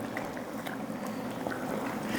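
Water bubbles and simmers at a steady rolling boil, a constant close hiss with soft pops.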